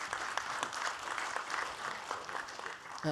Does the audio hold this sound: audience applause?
yes